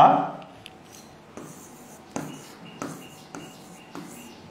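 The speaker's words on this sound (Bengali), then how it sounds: "আমি একটু এইভাবে লিখে দিই" Handwriting in Bengali during a lesson: a pen scratches out short strokes with a few sharp taps at a fairly regular pace, close and clear, with no one speaking.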